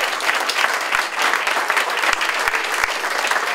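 At a summer fiddlers' gathering, the audience applauds the fiddle teacher with continuous, full clapping and a few heavier thumps scattered through the steady roar.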